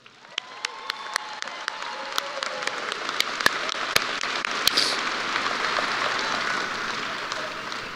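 High school graduation audience applauding, a crowd clapping that builds into a broad steady roar with some cheering and sharp individual claps near the front.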